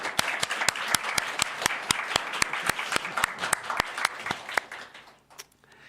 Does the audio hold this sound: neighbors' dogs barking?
no